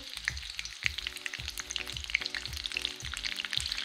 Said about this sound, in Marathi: आपल्या मिरच्या थोडेसे फ्राय झाले की आपण त्यात कांद्याची पात टाकायची आहे